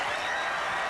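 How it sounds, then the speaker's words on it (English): A crowd applauds the Raiderettes, making a dense, continuous patter of clapping that holds evenly for a second with no voices over it. "Give them a round of applause,"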